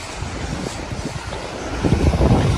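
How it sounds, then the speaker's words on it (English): Steady wind buffeting a microphone on a seaside promenade at Lowestoft, a broad low rumble that swells louder toward the end, with faint surf beneath. "little bit of wind still. Hopefully it's not too bad on the camera."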